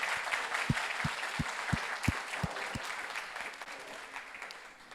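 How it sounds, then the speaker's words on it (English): Applause from a festival audience, thin and fairly distant, with broadband patter over a low room hum that fades slightly toward the end. "I would like to offer one big round of applause for RB"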